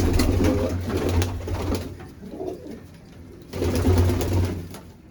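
Pakistani flying pigeons cooing, including a hen with feathered legs, with repeated deep throaty coos close by that fade and then swell again over a steady low background.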